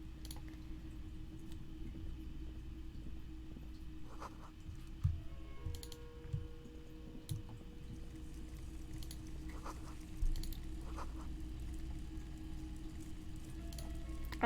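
Soft, scattered keystrokes on a computer keyboard, quiet and fairly close over a steady low hum, in irregular bursts with brief pauses and no talking.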